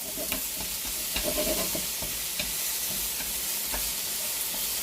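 Zucchini and onion stir-fried in a deep frying pan, giving a steady sizzle with irregular scraping and clinking from the stirring utensil, close and fairly even in level.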